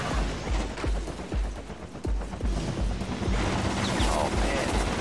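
Chaotic combat in Infamous 2 with incoming rockets and gunfire, a dense rumble of repeated thuds, booms and shots at a steady pace, loud and continuous, with some voices mixed into the din.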